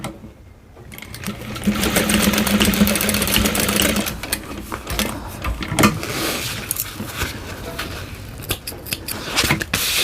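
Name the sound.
sewing machine sewing across top of bowler bag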